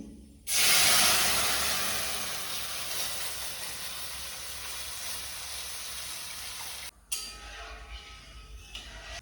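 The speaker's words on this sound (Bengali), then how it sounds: "বাদামগুলো হালকা করে ভাজা হয়ে গেছে এখন আমি দুধটা দিয়ে দিচ্ছি" Milk is poured into a hot pan of ghee-fried nuts, setting off a sudden loud, close hiss of steam that fades slowly over several seconds before cutting off, followed by quieter bubbling.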